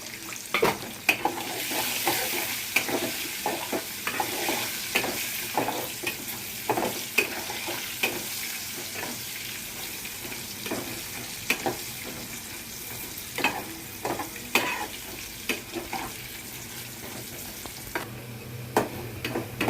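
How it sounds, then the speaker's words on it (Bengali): Potatoes frying in a pan with a little turmeric and salt, a steady sizzle punctuated by frequent scraping and stirring clicks of a utensil against the pan, close and alone without talk. "আলুগুলো আমি লাল লাল করে ভেজে নিয়েছি।"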